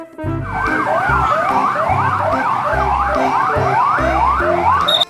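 A toy police car's electronic siren wails in a loud, steady up-and-down cycle with a pulsing low beat underneath, running close and alone for about five seconds before cutting off.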